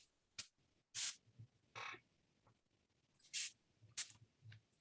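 Short hissing bursts from a spray bottle misting clean water onto painting paper, about six quick sprays at irregular intervals, close and fairly quiet, with brief silences between them.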